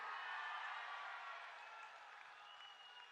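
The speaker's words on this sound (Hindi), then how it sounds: "प्रताप राव पाटिल जी के लिए जोर से ताली बजाइए सभी लोग" A large outdoor political rally crowd claps for a member of parliament, a faint, distant, even patter of many hands that tapers slightly over a few seconds.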